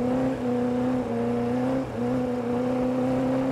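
A car powersliding in donuts, its engine holding a loud, steady droning note close by with slight dips in pitch as the back end swings around.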